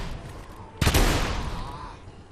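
A single loud rifle shot cracks in The Order: 1886, with the boom and echo fading over about a second against a steady low background.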